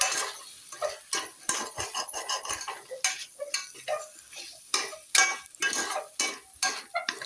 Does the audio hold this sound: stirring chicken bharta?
yes